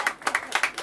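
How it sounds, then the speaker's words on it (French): A short burst of scattered hand clapping from a small crowd at a prize draw after an adult running race, about six or seven quick, uneven claps heard nearby. "Voilà, on peut l'applaudir."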